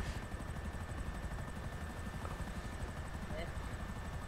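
A helicopter in the video game GTA V Online gives a steady, droning rotor rumble with a faint rhythmic pulse, continuous and fairly quiet throughout.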